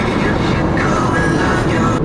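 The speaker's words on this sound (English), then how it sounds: "Trains in the background." A train rumbles past in the background, a dense continuous roar with low rolling rumble, heard from inside a vehicle on the road, loud and steady throughout.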